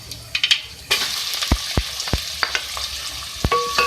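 Onion, mustard seeds and ajwain frying in hot oil for a fish gravy, a crackling sizzle punctuated by sharp pops and spoon clatters against the pan, close and fairly loud.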